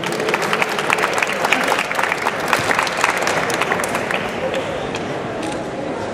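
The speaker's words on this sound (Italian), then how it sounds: "Facciamo un applauso" Applause from an audience at an event celebrating the world's largest pizza, a steady dense wash of clapping with crowd noise and voices mixed in, moderately loud throughout.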